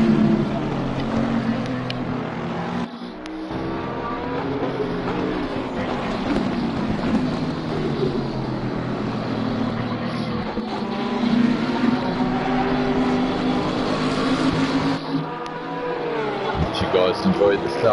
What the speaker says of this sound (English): Enjoy the sound of the engines just a little.